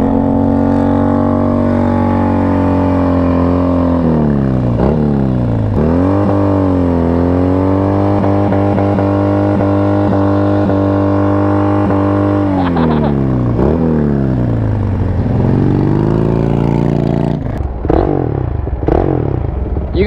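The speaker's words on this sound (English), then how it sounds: "Let's see what this Harley can do." A Harley motorcycle revving hard during a burnout, with loud sustained engine drones that rise and fall in pitch, dip and climb again, and end in sharp revs close by.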